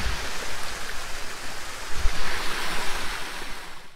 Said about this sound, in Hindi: लाइक बहुत तेज़ी से पानी गिरता है यहाँ पर